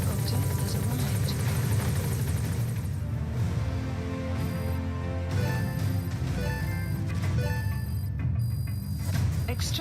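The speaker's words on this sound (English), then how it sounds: "Support helicopter has arrived." A support helicopter arrives in the Metal Gear Solid V video game, its steady rotor roar filling the scene loud and unbroken from start to finish.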